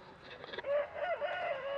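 A Chantecler rooster crows once nearby, a drawn-out wavering call lasting over a second, preceded by brief clucking noises.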